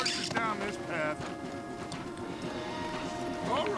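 Horse hooves in the video game Red Dead Redemption 2 clip-clop steadily in a close, repeated rhythm, with a snort or whinny and game voices talking over the hoofbeats.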